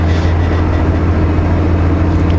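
Truck engine brake on a Spokane highway, a loud steady low rumble that holds constant and close with no voices over it.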